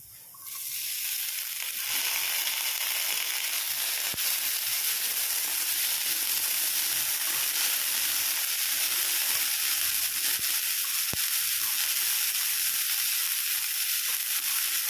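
Boiled green peas sizzle steadily in a hot pan on a low flame while cooking peas kachori filling, a continuous close hiss that holds for the whole stretch with no talking.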